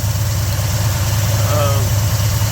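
A car engine, running on a newly swapped carburetor, hums with a steady low drone while driving, loud and even throughout with a slight rhythmic pulse.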